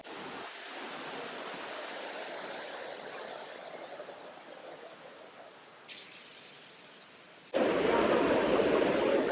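Dunn's River Falls in Jamaica, a cascading waterfall that visitors climb, roars as a steady broadband rush. It surges abruptly louder and closer near the end, with no voices heard.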